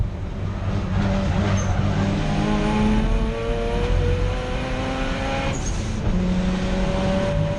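Mazda RX8 and Honda Civic race cars battle around Donington Park circuit, engines revving hard and close with rising and falling gear-change sweeps, loud throughout and no voices.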